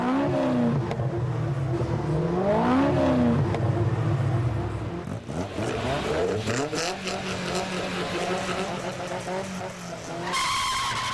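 Aston Martin Vantage sports car engine roaring loudly with rising and falling revs and tyre noise as cars race, including a Caterham, continuous and close throughout, with a higher whine near the end.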